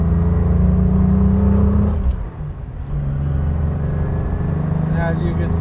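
A 1967 Aston Martin DB6 coupe pulling hard through the gears, its engine droning loud and near, dipping briefly at a gear change before climbing again, with faint speech underneath.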